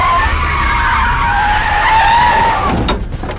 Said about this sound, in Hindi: गाड़ी को ब्रेक मारा क्या?